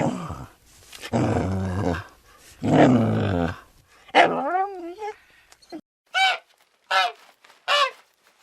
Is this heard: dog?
yes